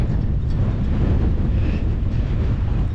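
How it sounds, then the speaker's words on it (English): Strong gale wind buffeting a microphone on a coastal street in Padstow, a steady, loud, dense roar with no pauses. "It's blowing a gale."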